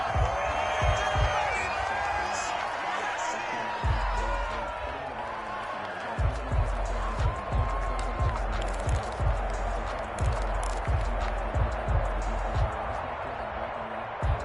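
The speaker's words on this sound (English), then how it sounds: "The crowd getting into it as we come up on a big 3rd down" A football video game crowd on PS4 roars and cheers steadily through the whole stretch, with rhythmic thumping beats and clapping under a constant wash of stadium noise, building ahead of a big third down.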